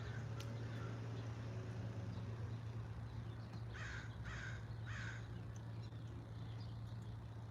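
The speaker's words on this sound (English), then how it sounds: "Crows." Three caws from a crow ring out in quick succession at a moderate distance, over a steady low hum of background noise.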